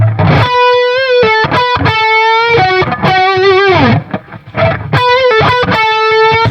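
A distorted electric guitar plays sustained notes in a minor-key blues solo, one slowly bent a little sharp and sliding in pitch, loud and close with no talking.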